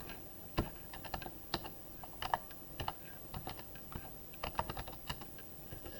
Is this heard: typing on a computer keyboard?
yes